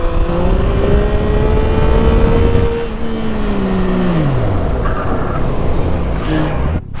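A 2024 Yamaha MT-09 SP motorcycle engine under riding, a loud steady drone whose pitch holds, then drops as the revs fall, before rising again, with heavy wind roar throughout.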